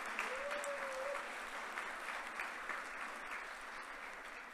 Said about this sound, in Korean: 우리 여러분 모두 박원순 서울시장님과 관계자분들에게 힘찬 박수 부탁드립니다.